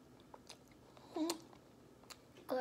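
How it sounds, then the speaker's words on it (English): A quail egg being eaten, with soft wet chewing and biting sounds close up, in a few short bursts and otherwise quiet. "Eat the egg. Go ahead and eat it."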